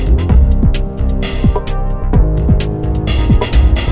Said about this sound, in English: The loop you hear is a 4-bar loop and the drums are sampled and the rest of the sounds is created with the internal synthesizer of the MV8000